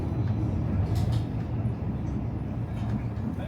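A West Midlands Metro tram slowing down near Wednesbury Great Western Street: a loud continuous low rumble of the tram rolling, with faint squeals and someone talking over it.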